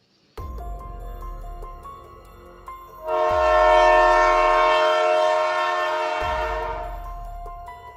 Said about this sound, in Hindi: और ट्रेन आगे बढ़ने लग जाती